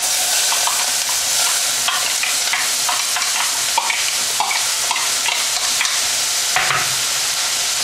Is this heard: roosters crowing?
no